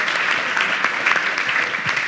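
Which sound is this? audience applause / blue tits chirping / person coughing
audience applause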